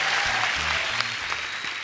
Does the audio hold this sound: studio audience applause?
yes